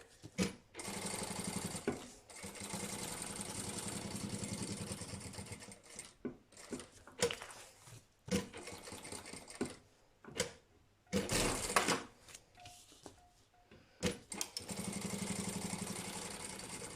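A sewing machine stitches close to the edge of a fabric lunch bag, running in several loud, close bursts of rapid whirring separated by short pauses and brief quieter handling sounds.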